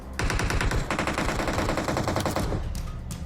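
Automatic rifle fire in PUBG Mobile, rapid close bursts of shots rattling almost continuously for over two seconds before tapering into fainter echoes and distant pops.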